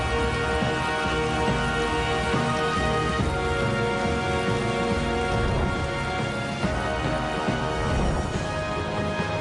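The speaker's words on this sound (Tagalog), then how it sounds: "Ang pagpatak ng unang ulan, ang hudyat ng panibagong buhay at pag-asa." Steady rain falls on surfaces at the onset of a first rainfall, a dense continuous patter with occasional louder drops, close and even throughout with no voices.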